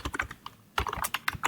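Fingers type an email address on a computer keyboard, with quick clusters of close, crisp key clicks broken by a short pause before another rapid burst.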